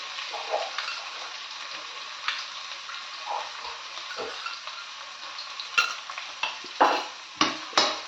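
Chopped vegetables fry in a pan with salt for kara bath, a low steady sizzle broken by scraping stirs and spoon knocks that grow sharper and louder toward the end, with no talking.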